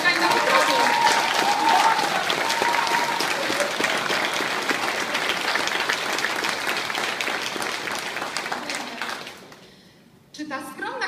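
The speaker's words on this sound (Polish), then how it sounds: "Kochani, wielkie brawa" An audience at a company anniversary event applauds a presenter, a dense steady round of clapping that fades out near the end before a voice briefly resumes.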